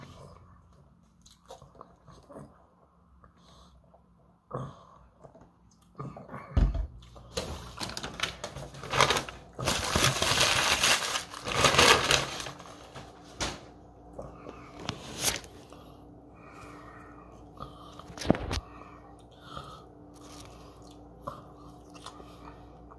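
Fresh Wendy's fries being bitten and chewed up close, with irregular crunches and soft mouth sounds building to a dense stretch of crunching, then tapering to sparse bites.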